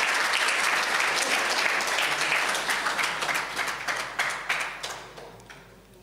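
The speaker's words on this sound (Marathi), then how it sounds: "जोरदार टाळ्या वाजून एकदा त्यांचं आपण अभिवादन करूया." An audience at a devotional music festival honours the singers with loud, dense applause that swells, then thins into scattered claps as it fades out.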